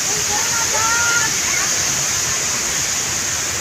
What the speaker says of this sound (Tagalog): pakita ko lang sa inyo no, yung likuran ko kung saan nasa yung falls na yan